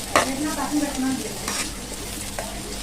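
Ingredients for chicken biryani frying in a pan, a steady soft sizzle with a few stirring scrapes near the start, close and moderately quiet, with no talk.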